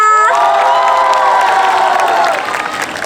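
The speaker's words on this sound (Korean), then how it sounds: "박수 한 번 주세요" Loud crowd noise from a university festival audience greeting a cheerleading troupe, with cheering and whoops alongside a held tone at the start, then fading into softer clapping and chatter.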